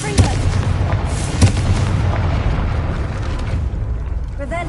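A Confringo fire spell explodes in the Hogwarts Legacy video game, a loud booming blast near the start followed by a second burst and rumbling debris over game ambience.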